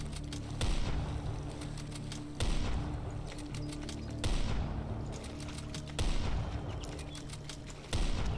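Repeated pistol shots in a hunting video game, five sharp booming reports spaced about every one and a half to two seconds over a low ambient hum, with no talking.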